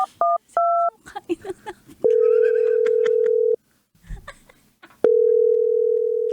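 A short run of keypad dialing beeps opens, then long steady ringback tones sound twice with a pause between, as a phone call is placed; faint background sounds fill the gaps.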